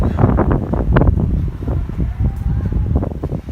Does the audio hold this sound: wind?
yes